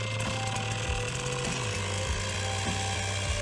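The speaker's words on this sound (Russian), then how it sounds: "Конец первого строительного дня завершается гулким шумом бензопилы." A chainsaw cuts through wooden rails at a forest shelter build site, its motor snarling loudly and continuously with short dips in pitch as the chain bites into the wood.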